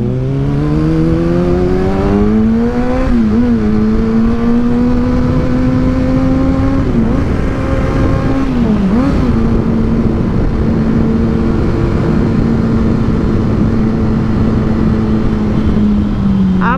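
A Kawasaki ZX6R sport motorcycle riding through Bangkok traffic, its engine note rising and falling as the rider shifts and accelerates, loud and close, with a whining tone holding steady over the road noise.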